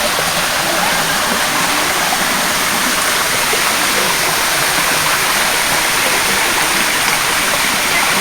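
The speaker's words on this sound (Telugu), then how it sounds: "రాతి బండల మీద చిన్న చిన్న సెలయేరులు ప్రవహిస్తూ కనులు విందు చేస్తాయి." Small streams pour over rocky boulders at Siddaramappa Kolanu near Srisailam, making a steady, loud, close rush of flowing water that never lets up.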